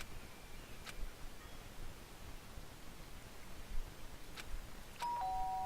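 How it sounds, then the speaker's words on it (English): A doorbell chimes in the video game Danganronpa: a single ding near the start, then two more quick rings close together later, over a quiet hissing background, ending in a sustained tone. "Oh, doorbell."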